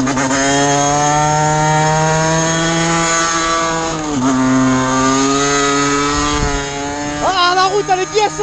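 A Gilera SMT 50 moped from 2013 fitted with a Top Perf 50cc kit runs with a loud, steady two-stroke engine drone that holds its pitch, dips briefly, then rises and wavers toward the end as the revs change.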